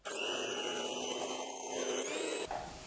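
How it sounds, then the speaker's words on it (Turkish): An electric mixer whips chilled pastry cream, a loud, close, steady motor whir with a bright grinding edge that runs for a couple of seconds before cutting off. "pastacı kremasını buzdolabından çıkardıktan sonra tekrar mikser ile çırpıp kullanıma hazır hale getiriyoruz"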